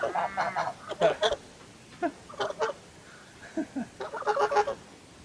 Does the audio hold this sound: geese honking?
yes